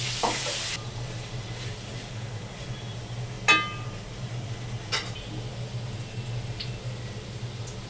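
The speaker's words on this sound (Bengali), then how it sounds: "এবার আমরা আলাদা একটি কড়াইয়ে তেল দিয়ে নিলাম এবং আলু ভেজে নিলাম।" Potatoes frying in oil in a wok for a Bangladeshi biryani, with a steady low sizzle running throughout, a brief burst of hiss at the start and a few sharp metal clinks from utensils.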